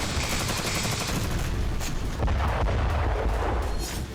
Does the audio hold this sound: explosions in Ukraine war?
yes